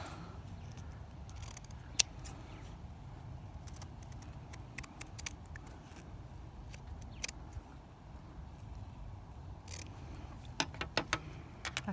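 Scissors snipping through scrap fabric for a slow-stitch Easter bunny, quiet scattered clicks and cuts at close range over a low steady background, with no talking.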